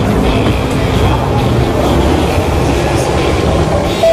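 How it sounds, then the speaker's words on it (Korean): A Hong Kong double-decker tram rolls through the North Point market area, with a steady, loud rumble and rattle of wheels on rails running continuously throughout. "그 노스포인트 시장을 관통해서 이렇게 전차를 타봤고요."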